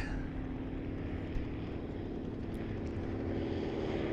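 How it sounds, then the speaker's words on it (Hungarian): A Boeing Stearman biplane flies overhead, its propeller engine a steady, loud droning hum that holds evenly throughout with no voices. "itt jön egy hidroplány, nem hidroplány, dupla fedeles repülő"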